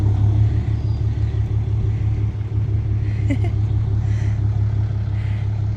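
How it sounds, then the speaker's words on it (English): Cars driving past outside, a steady low engine rumble with a passing vehicle's swell midway, faint voices or noises in the background over the continuous road hum. "Lots of friends just kind of drive by."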